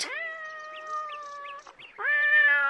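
A boy imitates a cat, giving a few drawn-out mewing calls with a rising wail at the end, clear and close with no other sound around it.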